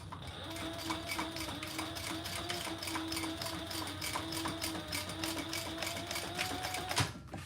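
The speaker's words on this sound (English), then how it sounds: "let's sew across that" A sewing machine stitches through leather in a fast, steady run of mechanical thumps with an underlying motor whine, close and continuous, ending in a sharp knock as it stops.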